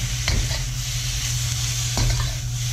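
Sauce is stirred into a stir fry sizzling in a pan, a loud, constant frying hiss beneath a steady low hum, with a couple of brief scraping stirs of the utensil against the pan.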